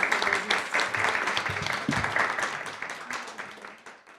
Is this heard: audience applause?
yes